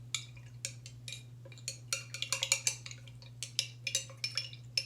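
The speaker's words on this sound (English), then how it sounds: "I'm going to stir these two up" A spoon stirs a ginger and cayenne pepper drink in a glass, giving quick, faint, irregular clinks and scrapes over a low steady hum.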